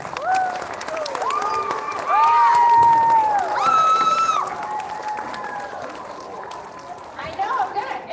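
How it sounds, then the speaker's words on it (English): A round of applause for a woman at a birthday gathering, steady clapping and cheering from a lively crowd that swells in the middle, with voices and whistle-like tones mixed throughout. "Can you give her a round of applause?"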